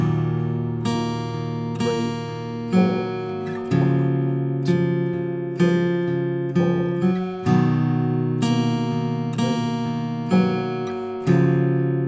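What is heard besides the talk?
acoustic guitar playing a song's intro tab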